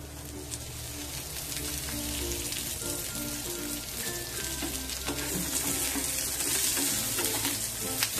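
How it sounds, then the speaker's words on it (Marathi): Sliced onion frying in a little oil in a pan for a Maharashtrian katachi amti, a steady dense crackling sizzle that swells slightly and runs throughout without voices. "आता कांदा परतण्यासाठी थोडंसं तेल टाकून घेऊया."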